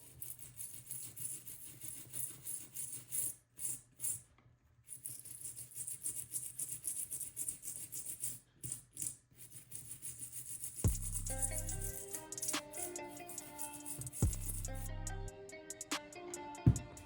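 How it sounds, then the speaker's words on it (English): A toothbrush dipped in isopropyl alcohol scrubs an old Makita lithium-ion battery pack, producing bursts of rapid bristle rasping close up, with pauses between strokes and some low thumps partway through. "I clean up the battery a bit with IPA and a toothbrush"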